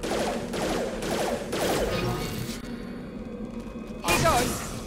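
Gunfire in the video game Mass Effect 2, a steady run of repeated shots and bursts at close range. A brighter, harder burst lands near the end, and a voice sits beneath the shooting.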